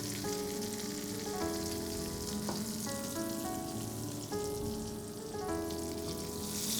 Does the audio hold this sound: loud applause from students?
no